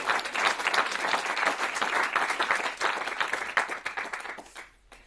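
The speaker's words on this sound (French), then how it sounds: "Voilà, on applaudit." An audience at a French staged lecture bursts into steady, dense applause, loud and continuous, then thins out and fades near the end.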